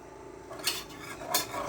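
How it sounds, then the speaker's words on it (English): A whisk scrapes and clinks against a pan while butter and flour are mixed for a white sauce, giving two brief metallic strokes over a quiet background. "I'm gonna mix it well and thoroughly so that all the flour can be coated with butter. I'm using a whisk,"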